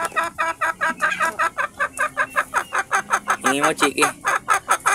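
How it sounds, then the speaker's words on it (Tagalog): A free-range Rhode Island Red hen clucks close by in a quick, steady string of calls, with a person speaking briefly over them. "Ito yung kauna-una namin na manok"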